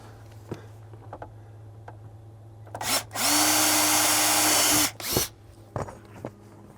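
A power drill whirs at steady high speed for about two seconds drilling holes in a Jeep XJ center console, then gives a brief second burst, with small clicks and handling noises around it.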